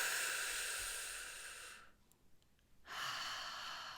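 Slow, steady breathing in a guided meditation, a long soft breath sound fading into a brief quiet gap and then returning, close and alone with no talking.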